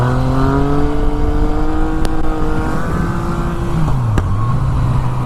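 A motorcycle, a Yamaha FZ-09 or Suzuki DR-Z400, engine drones loud and steady while held in a wheelie at constant throttle, its pitch holding level and then dipping as the back brake brings the front wheel down.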